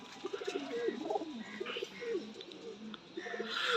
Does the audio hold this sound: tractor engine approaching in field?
no